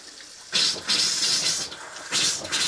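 Water runs from the tap into an RV sink, two bursts of hissing, splashing flow with a short lull between them, fairly close and moderately quiet, with no voices.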